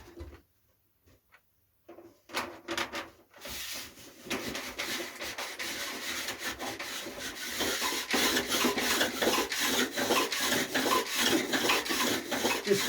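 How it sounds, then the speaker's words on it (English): Sandpaper rubs the edges of balsa wood wing ribs on a radio-control Mannock biplane, starting with a few faint scrapes after near silence, then settling into quiet, rhythmic back-and-forth rasping strokes that grow steadier. "sand the edge of the ribs a little bit, just to make it easier to turn."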